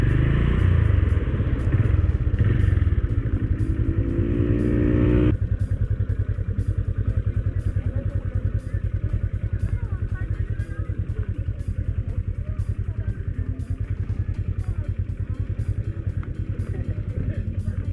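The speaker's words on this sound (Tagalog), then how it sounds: "Mini pocket bike." A two-stroke mini pocket bike engine buzzes and rattles nearby in a rapid, steady putter, briefly louder at first, with voices talking over it.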